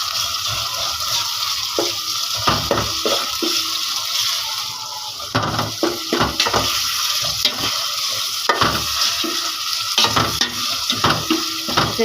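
Minced meat keema stirred and frying in a pan with garlic and onion, a steady sizzle broken by repeated scraping stirs, close and fairly loud, with no talking.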